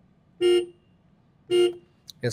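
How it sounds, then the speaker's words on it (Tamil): Two short electronic horn beeps from a Tata Tiago EV electric car, evenly spaced about a second apart, loud and close, followed by a brief clatter. "இந்த ஹாரன் எப்படி இருக்குங்கிறத பார்ப்போம்"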